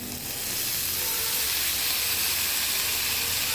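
Banana flower tipped into a hot pan of spiced prawn masala cooked with ginger, cumin, coriander and dried chilli, giving a steady, loud hiss and sizzle that rises quickly and holds throughout, with no voices.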